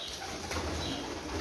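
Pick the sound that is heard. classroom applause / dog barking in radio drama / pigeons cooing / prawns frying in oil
pigeons cooing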